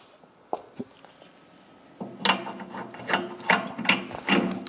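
A leg being screwed onto the stand of a BAi Vision embroidery machine: scattered clicks at first, then a close, rhythmic ratcheting and grinding of metal parts as it is turned.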